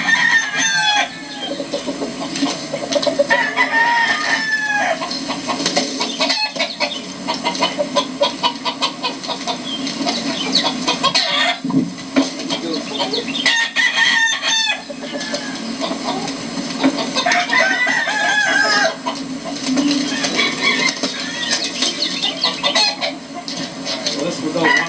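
A flock of chickens clucks busily and almost continuously close by while a rooster crows several times, loud and overlapping, in a lively barnyard chorus that runs throughout.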